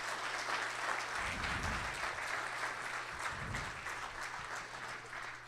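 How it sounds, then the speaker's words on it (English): Audience applause at a church gathering, a warm steady spread of clapping from a crowd that holds at moderate loudness throughout, with faint low thumps underneath. "Give them a good round of applause."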